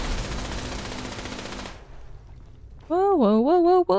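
Rapid automatic turret fire in Fallout 76, a dense, loud burst of gunfire lasting under two seconds, then a short lull before a sustained electronic tone.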